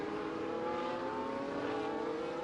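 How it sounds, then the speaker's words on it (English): A McLaren race car in a racing video game at the Singapore GP, its engine holding a steady, loud, whining drone throughout, with no speech over it. "Here's the McLaren."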